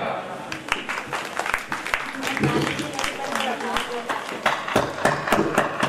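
A congregation at a Christmas church celebration breaks into clapping, a dense, lively patter of many hands nearby with crisp individual claps standing out, while voices talk and call out over it.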